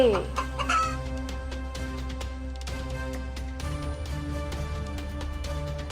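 A rooster crows, then a hen clucks amid a continuous backdrop of music.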